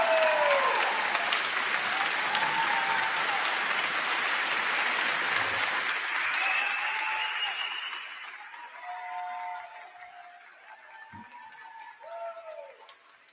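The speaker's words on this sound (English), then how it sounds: "Pause for applause." Audience applause at a school board meeting, loud and sustained at first, then thinning out and fading over several seconds, with scattered whistles and a few remaining claps toward the end.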